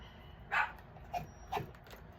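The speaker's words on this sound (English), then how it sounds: "If you hear my dog in the background," A pet dog barking in the background of a quiet room, three faint, short barks spaced about half a second apart.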